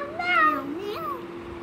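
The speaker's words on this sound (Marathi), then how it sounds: "मांजर?" A cat meows once with a rising, drawn-out cry, close and clear, followed by a fainter second mew over a steady low hum.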